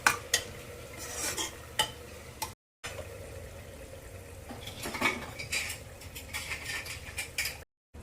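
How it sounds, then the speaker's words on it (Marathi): A spoon scrapes and clinks against a cooking pot as marinated prawns are stirred into masala, soft irregular scraping with a few sharper metallic taps and a faint sizzle underneath, no voices. "आता ही मॅरिनेट केलेली कोळंबी टाकून घ्यायची आहे आणि हे पण एकदम व्यवस्थित मिक्स करून घ्यायचंय."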